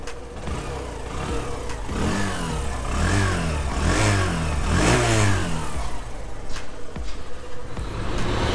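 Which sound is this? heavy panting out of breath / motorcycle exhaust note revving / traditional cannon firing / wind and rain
motorcycle exhaust note revving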